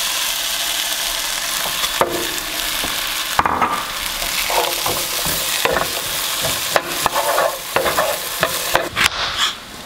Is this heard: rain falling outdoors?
no